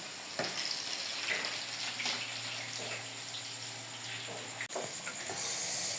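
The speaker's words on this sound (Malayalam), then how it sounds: "ഇനി ഫ്രൈ ചെയ്തെടുത്തിട്ട് കാണിക്കാം." Food frying in a pan for a family dinner, a steady broadband sizzle running the whole time with a low hum underneath and a brief break near the end.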